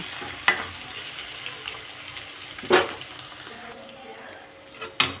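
Egg frying in oil in a pan and being stirred, sticking to the pan's bottom: a steady close sizzle with three sharp scraping strokes of the spoon spaced a couple of seconds apart, no talking.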